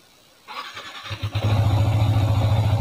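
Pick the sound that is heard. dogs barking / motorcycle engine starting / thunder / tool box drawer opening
motorcycle engine starting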